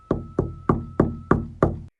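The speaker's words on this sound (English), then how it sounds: "as soon as her mother closed her eyes again, the knocking returned" Six evenly spaced, firm knocks on a door at night, each one solid and close, ending abruptly in silence.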